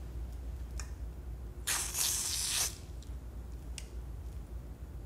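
A single hiss of hairspray from an aerosol can, about a second long, loud and near, with quiet handling sounds before and after.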